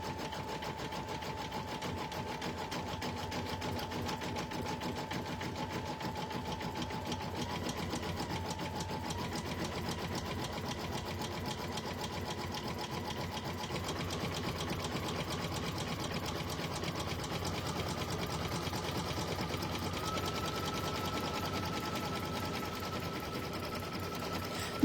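A home sewing machine runs steadily in a long, continuous stitching burst at a constant moderate level, its fast mechanical whir holding alone throughout with no pauses.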